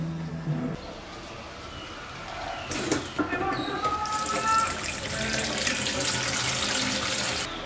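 A kitchen tap runs while vegetables are washed under it. The water gushes loudly and continuously into the sink for several seconds, with splashing and clatter as produce is handled, after a brief quiet start.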